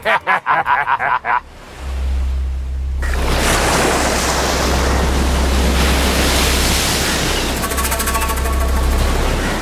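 Rough, angry sea surges in a steady, loud roar of breaking waves and wind, following a brief stretch of choppy bursts at the start.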